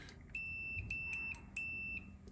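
A multimeter set to continuity gives a steady electronic tone while the probes test a ground connection during a digital dash install in a 1964 Chevelle. The tone sounds in a series of short beeps, then one longer beep, clear and close.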